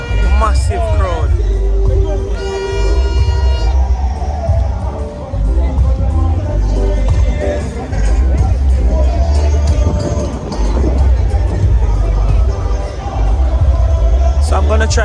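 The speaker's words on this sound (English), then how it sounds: "Massive crowd." A large, dense crowd fills an outdoor concert with loud continuous babble and shouting over amplified music, and voices talking nearby.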